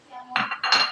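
A spoon scrapes and clinks against a pan while stirring mushroom curry with a little added water, two short bursts of metallic scraping, close and fairly loud.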